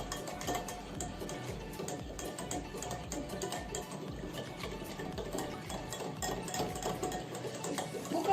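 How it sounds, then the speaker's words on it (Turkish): Dry yeast and sugar being stirred into liquid in a bowl until dissolved, a steady continuous swishing and scraping with no pauses and no talk. "Bunu güzelce maya ve şekeri eriyene kadar 15 saniye kadar karıştırıyoruz."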